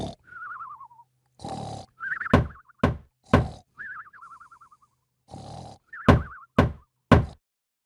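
Loud, heavy knocks pound on a house door in sharp bursts of two or three, separated by pauses that are filled with other tonal noises.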